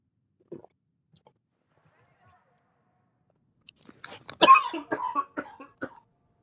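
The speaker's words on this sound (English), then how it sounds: "I didn't want to cough into my microphone." A man's cough into a microphone, heard as a short burst of harsh, rough bursts in close succession after a faint earlier sound, loud and near with no speech over it.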